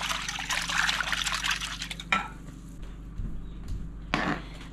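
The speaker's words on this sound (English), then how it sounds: "I'm just going to mix the broth and the eggs together." Broth and eggs being stirred together in a bowl for frugal Thanksgiving stuffing, giving a soft, continuous liquid swishing and sloshing that is close and moderately loud, with a few brief pauses and knocks near the end.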